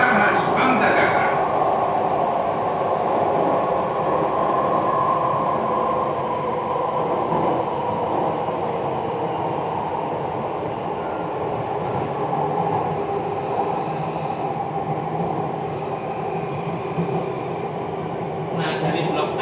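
Ride aboard a Jakarta MRT North South Line train, a steady rumbling hum of the moving carriage with air and wheel noise filling the cabin, and brief chimes near the start and end.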